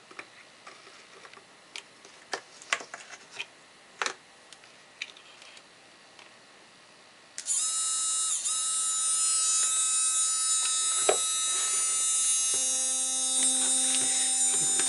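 A few faint ticks and clicks, then a small DC electric motor with a pentagon Y winding starts up with a steady high-pitched whine and hum that runs continuously to the end.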